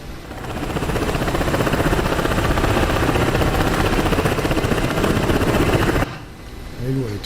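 Ka-50 Black Shark attack helicopter in the DCS combat flight simulator over a Syria map, its rotor and engine roar loud and steady for about six seconds before cutting off abruptly into a quieter tail.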